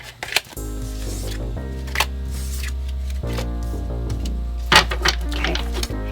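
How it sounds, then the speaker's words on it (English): Tarot cards are shuffled in a few brief crackling bursts over a low, steady musical drone during a reading. "One more shuffle"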